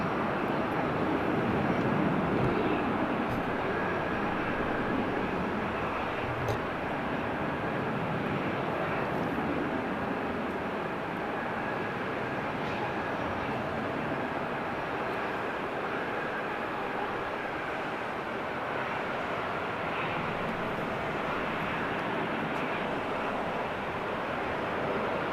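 An Airbus A380 taxiing, a steady distant engine roar and rumble that holds for the whole stretch, mixed with broadband wind noise on the microphone, and no talking.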